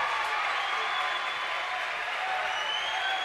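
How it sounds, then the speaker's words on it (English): The crowd at a girls' varsity basketball regional final, Grinnell against Pella, stands and cheers, a steady wash of applause and shouting that holds loud and even throughout without any voice rising above it. "And the crowd can only stand and cheer."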